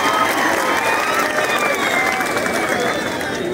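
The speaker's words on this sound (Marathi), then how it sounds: "स्वतःसाठी जोरदार टाळ्या झाल्या पाहिजे।" An audience at a dance performance event claps and cheers in a sustained, loud wash of applause that holds steady throughout.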